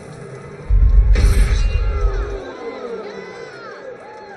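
A game crowd in Jade Empire's fighting pit erupts in a burst of cheering with a heavy low rumble, then fades over a couple of seconds into the game's background sounds.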